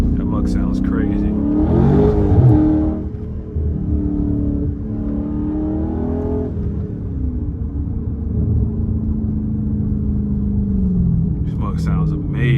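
A loud straight-piped Scat Pack car engine rumbles and revs up close, its deep exhaust drone carrying a thin, whining intake tone.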